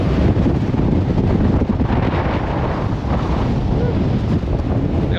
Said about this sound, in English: We got wind gusts up to 50 miles per hour out here.